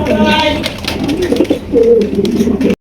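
A pair of pigeons on a farm coo in low, rolling phrases close by, with faint background voices under them.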